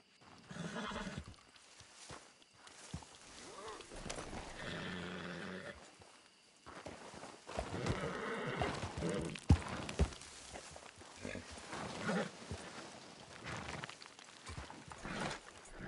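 Horse whinnies and hoofbeats from Red Dead Redemption 2 in New Austin, a few neighing calls and clopping steps over a steady game soundscape, with a sharp thud near the middle.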